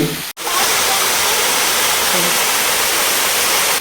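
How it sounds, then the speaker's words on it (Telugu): Steady, loud rushing roar of a year-round waterfall at Siddha Ramappa pond in Srisailam, broadband and unbroken after a brief dropout at the start. "ఈ జలపాతంలో మూడు వందల అరవై ఐదు రోజులు అన్ని కాలాలలోనూ నీరు ప్రవహిస్తుంది"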